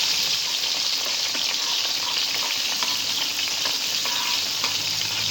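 Ginger and onion sauté in oil in a pan for a sweet and sour fish dish, a loud continuous close-up sizzle with occasional stirring clatter.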